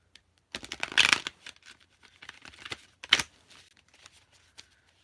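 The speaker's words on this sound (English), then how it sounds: "one more shuffle" Oracle cards being shuffled in two quick riffling bursts, then softer handling and light tapping in a quiet room.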